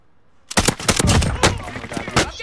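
Rapid automatic gunfire in the battle royale game Warzone: a loud, dense burst of closely spaced shots starts suddenly after a brief quiet and keeps rattling to the end.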